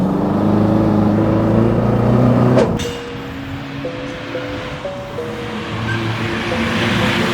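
Circuit race car engine heard from inside, a loud steady roar that dips in level partway through, then pitch steps upward as it accelerates, under broad wind-like noise.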